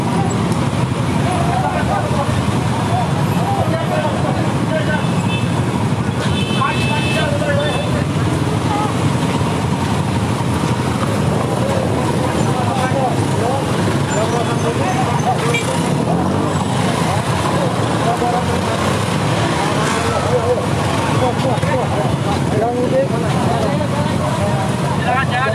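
Dense roadside traffic noise fills a holiday-travel checkpoint at Kedungwaringin, Bekasi, with motorbike engines and passing vehicles in a loud continuous roar while people talk and shout over it.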